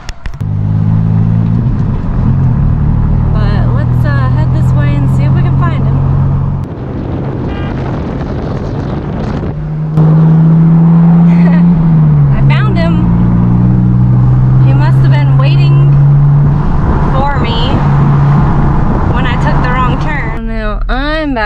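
A vehicle engine rumbles steadily inside a cab, with road and wind noise throughout and people talking over it.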